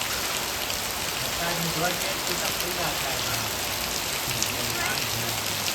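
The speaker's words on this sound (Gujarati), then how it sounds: "કેવો પણ મસ્ત વરસાદ પડે" Heavy rain pours down in a village in Botad, a steady close hiss of drops on surfaces filling the air without a break.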